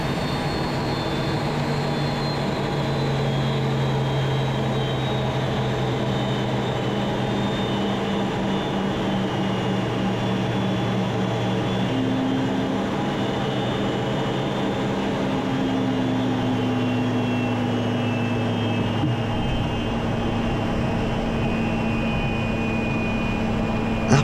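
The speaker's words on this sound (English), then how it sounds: "we approach the runway to come into land now" A fighter jet approaches the runway and lands, heard from inside the cockpit as a constant loud engine roar and airflow rumble with slowly shifting tones throughout.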